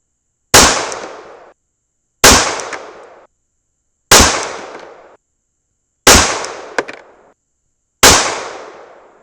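Five sharp 9mm pistol shots at slow, even intervals, each a loud crack with a decaying echo; handloaded 65gr Inceptor ARX frangible plastic rounds.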